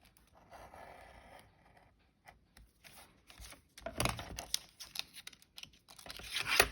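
Scissors trim a paper craft tag along a grid line, a run of close, crisp snipping and rustling that starts faint and grows louder toward the end.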